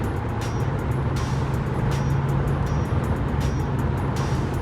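A 1987 Chevrolet Caprice Classic Wagon cruising just off the expressway, heard from inside as a steady, continuous low engine and road rumble with tire and wind noise and no talking.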